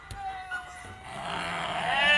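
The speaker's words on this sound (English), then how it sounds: "Yes, there's 3 baby sheep this morning." Baby lambs on a farm, one of three newborn sheep, give a wavering bleat that rises and swells toward the end, close and fairly loud, with other farm animals faintly around.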